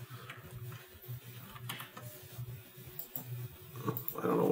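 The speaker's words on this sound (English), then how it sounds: "And it's going through its home position." A 3D printer moves to its home position with quiet mechanical whirring and light, rhythmic ticking from its motors, rising slightly louder at the end.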